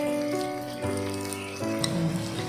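Almonds frying in a pan while gur (jaggery) rice is prepared, a steady close sizzle with a low hum running under it, no talk.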